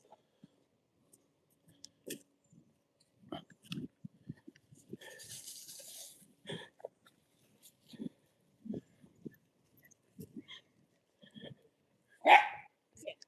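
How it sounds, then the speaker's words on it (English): Dogs barking outdoors on a sunny, breezy day, with scattered, fairly distant barks through quiet stretches and one louder bark near the end. "Oh, got some dogs coming."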